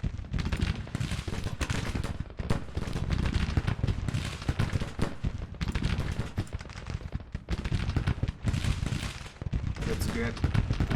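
Massed musket volleys in an American Civil War strategy game, with troops fighting in woods: loud, ragged crackling fire in repeated waves across the whole stretch, near and dense.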